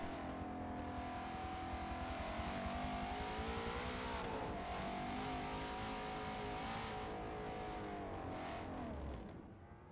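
A race car drifting in a Forza racing game at Road Atlanta, its engine holding a loud, steady whine with wavering revs through a long slide, and faint tire scrub underneath and no voices.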